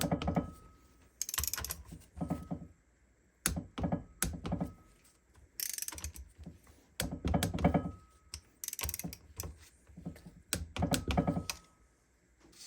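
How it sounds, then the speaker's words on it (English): A torque wrench tightens the cylinder head nuts on an XR200 engine, giving sharp, close clicking and ratcheting bursts in irregular clusters with short pauses between. "And a final torque down of the nuts up top."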